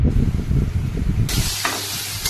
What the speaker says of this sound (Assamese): এতিয়া মই হালধি নিমখ সানি পনীৰখিনি অলপ ভাজি লওঁ।